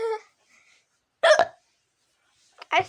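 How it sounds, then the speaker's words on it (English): Two short, abrupt hiccups sound close and clear, each a quick gulping catch of breath separated by quiet, with a brief vocal sound at the start. "I still got hiccups."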